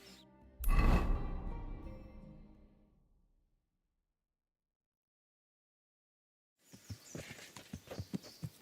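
Horse hooves in the medieval game Kingdom Come: Deliverance: a heavy thump fades into a few seconds of silence, then a steady, close clip-clop rhythm of hoofbeats starts up and continues to the end.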